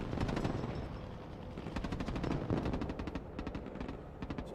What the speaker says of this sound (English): Nobody wants to deal with that Gatling gun.